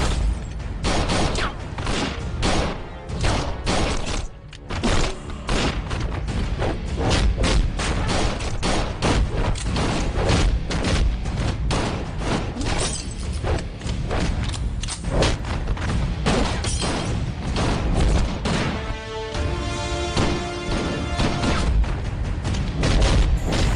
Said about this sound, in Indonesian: ayahnya datang ke tempat ayah Mira, mereka terlibat baku tembak dan saling menyerang satu sama lain